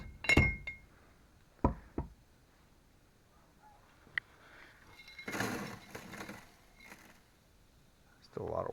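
Quartz ore softened overnight in vinegar gets smashed to pulverize it, producing several sharp metallic clinks and knocks at irregular intervals with a burst of gritty rattling, set against quiet, faint background sound.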